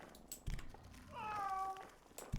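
A cat meows once in a pet shop in the EverQuest II video game, a clear, drawn-out in-game cry set among faint game sounds, with brief voices before and after.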